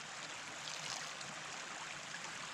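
Water rushing fast through a portable water filter outdoors, a faint, steady hiss of flow with no break, like a small stream, no voices present.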